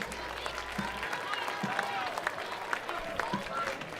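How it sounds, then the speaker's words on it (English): A crowd in the stands at a high school varsity football game between Pisgah and Franklin applauds, faint and distant, a steady patter with a voice over the public address. "Let's give a round of applause for the pit"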